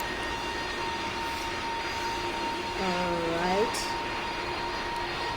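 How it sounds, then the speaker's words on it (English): A Boeing airliner on final approach in the Roblox game PTFS gives off a continuous engine drone with a rising whine partway through. A person speaks briefly over it. "I'm on final approach. Flaps on 1, half flaps."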